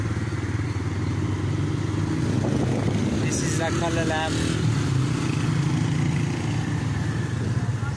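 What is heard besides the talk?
motorbikes passing in Dadyal bazaar street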